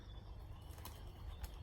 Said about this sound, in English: Pigeons leaving it.